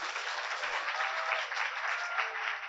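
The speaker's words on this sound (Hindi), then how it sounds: "एक बार यहां से लेकर वहां तक ताली बजनी चाहिए सर के स्वागत में" Audience at a children's poetry gathering claps steadily to welcome a guest, a continuous even wash of many hands, fairly soft and slightly distant, with no voices over it.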